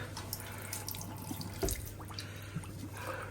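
Water trickling from a tap onto a small compressed towel tablet, a steady faint running flow with a few soft drips and splashes, no voices.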